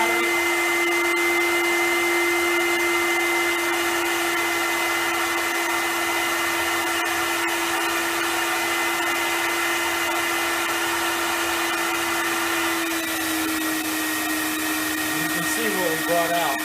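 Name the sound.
vacuum extractor running while cleaning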